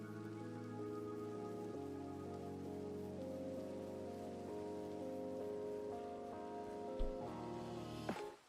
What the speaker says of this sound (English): It just looks dark because it's raining.